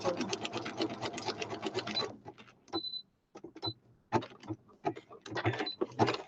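A sewing machine stitches a zigzag line on journal ephemera, running in a fast rattling burst and then stopping and starting in short, close, clicking spurts.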